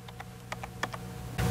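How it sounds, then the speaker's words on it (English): Quick keystrokes tap out a value on a computer keyboard, about eight light, close clicks at an uneven pace, followed by a short burst of low background noise. "So I'll type that in."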